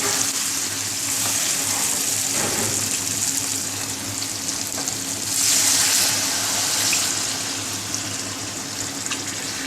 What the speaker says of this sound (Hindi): ये 3 गिलास हमने इसको पानी डाल दिया है।